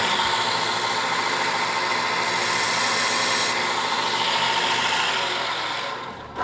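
A file rasps against a steel bicycle frame tube miter in a framebuilding shop, continuous close scraping strokes that swell in the middle and fade out at the end.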